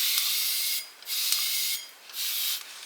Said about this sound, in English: You spray the vinegar into the cup, around the edges, or whatever you're washing.